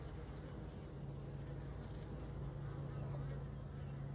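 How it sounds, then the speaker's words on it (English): A small bee swarm around a bucket swarm trap, a continuous buzzing hum from many bees flying close overhead, steady and unbroken throughout. "there's probably like 10, 15 bees flying above my head"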